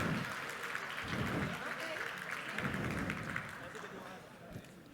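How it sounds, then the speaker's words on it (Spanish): An audience at an education summit panel applauds, a continuous wash of many hands under a voice speaking over it, fading slightly toward the end. "para quien pido un fuerte aplauso"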